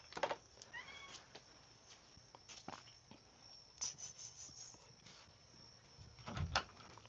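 A kitten meows several times, faint and a little distant, over a quiet outdoor background of insects near hunting grounds, with no talking.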